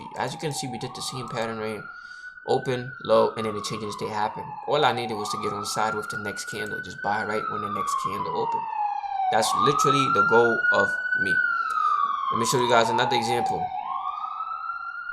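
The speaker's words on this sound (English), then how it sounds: "Don't mind that, that's the ambulance." An ambulance siren wails outside, sweeping up and down in long cycles at moderate distance, steadily beneath someone talking continuously close to the microphone.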